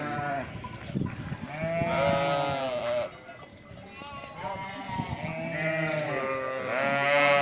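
Goats and sheep bleat repeatedly at close range, wavering cries one after another, with a cowbell clanking and a person speaking nearby.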